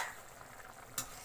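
Beef and potato curry being stirred in a pot after roasted cumin powder goes in: a faint, soft scraping and bubbling simmer with one brief sharper clink near the end.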